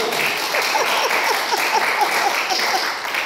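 A church congregation claps together for God during a sermon on family restoration, a steady wash of hands filling the room for about three seconds, with faint voice-like tones running underneath.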